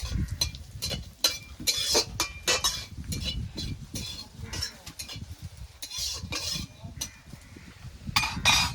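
Three dried red chillies and radhuni seeds being stirred in a pan as a tempering: continuous close scraping and clinking of a spoon against metal, with frequent sharp taps over a faint sizzle and no talk.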